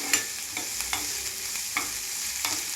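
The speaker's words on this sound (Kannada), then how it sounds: "ಇದನ್ನು ಸ್ವಲ್ಪ ಫ್ರೈ ಮಾಡ್ಕೊಳ್ಬೇಕು." Chopped garlic and green chillies frying in a pan produce a soft, even sizzle, with a few light spatula taps spaced through the stretch, close and fairly quiet, no voices.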